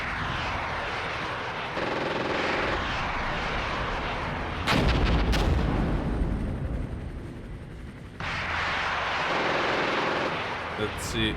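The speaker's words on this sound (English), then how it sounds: "Let's see what we can do with our artillery damage here" Artillery barrages in the Cold War simulator Armored Brigade 2, with loud booming blasts and rumbling impacts layered over a constant background din, while a voice talks alongside.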